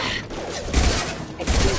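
Heavy gunfire in Mass Effect 2 combat, two loud clustered bursts of shots with brief lulls between them, no voices over it.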